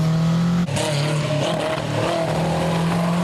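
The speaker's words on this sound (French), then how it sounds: "il n'y a pas d'autoradio, donc autant entendre le bruit du moteur" A Renault Clio Rallye3 rally car with no power steering or brake assistance revs hard, a loud continuous engine drone rising and shifting in pitch with a brief dip partway through, heard close from inside the cabin.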